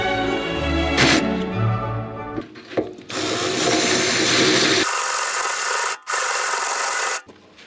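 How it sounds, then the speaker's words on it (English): Large drill bit boring into oiled steel on a homestead renovation: a steady, loud grinding whine that shifts pitch and stops briefly mid-way before resuming, close and alone with no talk. "I'm gonna make sure to apply and use a little bit of oil as I'm drilling into the steel."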